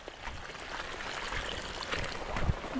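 A swollen river rushes along after heavy rain, its broadband water roar steady and close with a few splashy surges that build slightly toward the end, and no voices over it.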